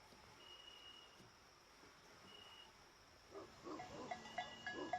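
A flock of sheep bleats faintly in the distance at night in open country, the calls growing more frequent and overlapping toward the end over quiet outdoor ambience.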